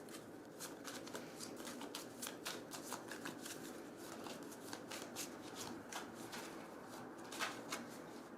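Oracle cards are shuffled by hand close up, giving a quiet, steady run of soft riffling slaps and flutters in a repeating rhythm.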